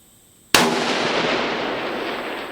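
A single sharp, loud shot from a T/C Performance Center bolt-action centerfire rifle chambered in 6.5 Creedmoor, a sudden crack followed by a long, rolling echo that fades slowly over two seconds outdoors.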